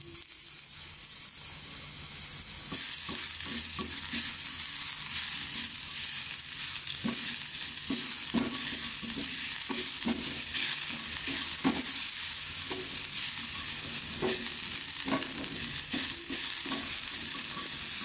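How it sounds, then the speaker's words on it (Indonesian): Garlic sautés in heated extra virgin olive oil, a steady close sizzle and crackle running throughout with occasional stirring clatter and no talk. "Di sini sudah ada olive oil, extra virgin oil ya, sudah dipanaskan. Lalu kita sekarang tumis untuk bawang putihnya."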